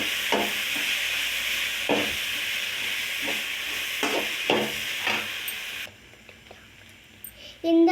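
Ingredients for tomato chutney, with tamarind added, sauté and sizzle in a pan with a steady hiss, broken by a few soft stirring scrapes, before the sizzling cuts off near the end.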